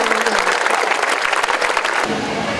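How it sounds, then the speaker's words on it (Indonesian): At a school ceremony in Banda Aceh, an assembly of students claps for a student named Muhammad, with a dense burst of loud applause that fades slightly near the end as a voice starts. "Luar biasa, tepuk tangan buat Muhammad."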